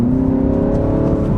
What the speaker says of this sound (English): I really am impressed with this exhaust note though